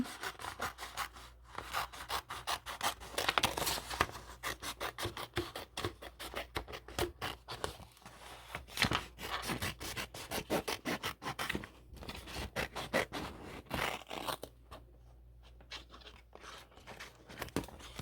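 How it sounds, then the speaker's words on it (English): Steady snipping and rubbing scissor strokes cutting paper around a design, close and continuous, with short pauses between runs of cuts. "I cut around my design using scissors"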